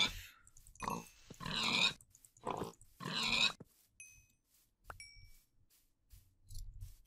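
Short bursts of video game pig oinks and grunts come in clusters, with quiet gaps and faint chimes between them, clear and fairly close.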